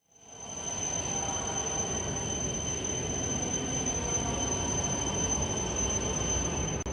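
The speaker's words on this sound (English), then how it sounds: "Our train to Tokyo is arriving now." A Shinkansen Yamabiko bullet train pulls into a station with a steady rushing roar and a sustained high-pitched wheel whine, rising quickly from silence and holding loud throughout.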